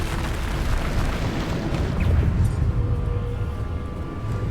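A deep, rumbling blast from the Bombarda spell in the Hogwarts Legacy video game, with a broad roar that holds steady for several seconds.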